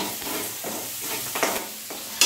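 Tomatoes and mixed vegetables sauté in hot oil for a Bhogi bhaji: loud close sizzling with a few stirring scrapes and a sharp clatter near the end.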